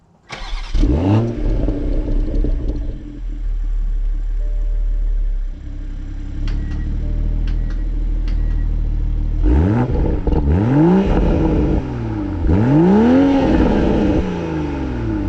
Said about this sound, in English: So I actually have to go in to the car and start it.